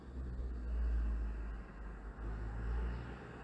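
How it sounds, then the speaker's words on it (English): A truck passes outside with a loud, swelling low rumble that peaks, dips briefly and builds again, heard steady and close, with no talk over it. "I'm waiting for the truck to pass by."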